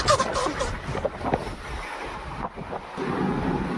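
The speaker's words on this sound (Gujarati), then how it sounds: "અહીંયા બહુ જ ઠંડો પવન આવે" Cold wind blowing in at a hostel room window, a steady loud rushing buffet close to the microphone throughout with gusty swells and no talking.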